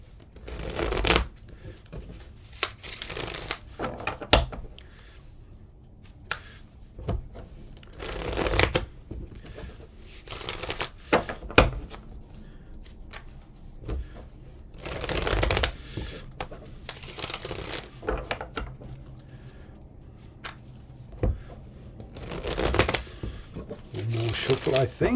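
Tarot cards shuffled by hand in repeated bursts of crisp riffling and flapping, close and clear, with quiet pauses between rounds.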